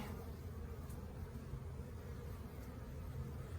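Honey bees buzzing around a hive entrance and its screened bottom board as foragers bring in pollen, a dense steady hum close by, alone without voices.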